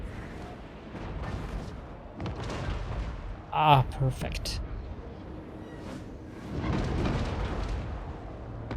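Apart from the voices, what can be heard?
grand cannon artillery fire in the video game Total War Warhammer 3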